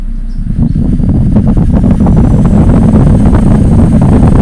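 A Mitsubishi GDI engine runs loaded with the AC switched on, giving a loud, steady low rumble and drone with constant pulsing throughout and no speech.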